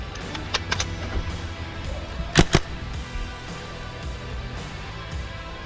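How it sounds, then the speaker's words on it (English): Paintball marker shots during a magfed-versus-speedball paintball game: a few sharp pops early, then a louder close pair of cracks midway, over steady outdoor background noise. "I do manage to get back up and return fire."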